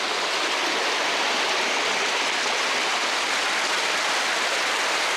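Rushing water from a stream and waterfall in a wild outdoor setting, a steady, dense, continuous roar that holds at constant loudness throughout with no speech.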